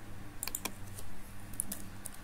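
Command typed on a computer keyboard, a quick run of light key clicks in two short bursts over a faint steady room hum.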